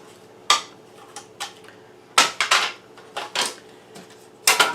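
Plastic safety guard being pulled off a mandolin slicer, giving a series of sharp clacks and clicks in uneven bursts, close and fairly loud with no voices.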